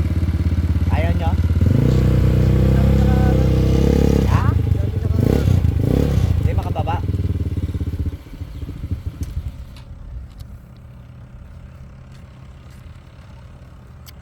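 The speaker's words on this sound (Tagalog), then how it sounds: "Mga motor yon. Ng pulis." Police motorcycles rumble past loudly, engines revving and clattering, then fade into the distance while people talk nearby.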